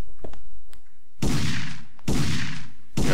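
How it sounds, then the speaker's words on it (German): Gunshots ring out in the video game Parasite Eve 2: three loud, sharp blasts with long roaring tails, evenly spaced about a second apart, following a few quiet clicks. "Boom. Guter Schuss."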